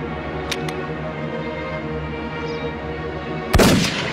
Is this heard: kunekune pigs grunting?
no